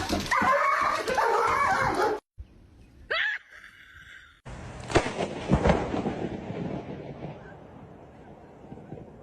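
Dog whimpering and yipping while being taken to the vet, heard as high, strained whines and short yelps broken by brief silent gaps, with noisy handling sounds close by.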